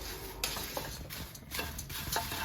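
Dry rice flakes (poha) tossed and stirred in a hot pan over medium flame, giving a steady close scraping and rustling with light clinks of the spoon against the pan, no voices.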